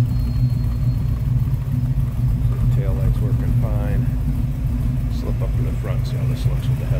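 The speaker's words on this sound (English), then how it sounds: "Nice little rumble coming out of that 350." The 350 V8 in a 1932 Ford Deluxe five-window highboy coupe hot rod idles with a steady, deep low rumble close by, while someone talks over it.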